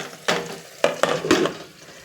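Rice with cashew nuts fries in a pan, heard as a soft hiss broken by several distinct stirring scrapes and clanks against the pan, close and short with no talking.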